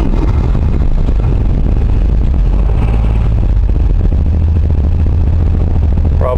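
A 1962 Ford Falcon engine runs steadily on fuel left in the carburetor just after a quick start, a loud, continuous low rumble with mechanical clatter filling the whole stretch.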